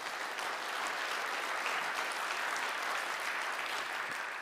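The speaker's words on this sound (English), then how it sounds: "Round of applause, y'all, for them." An audience at an evening community gathering applauds, a steady, dense wash of clapping that holds at an even, fairly loud level for the whole stretch, with no one speaking over it.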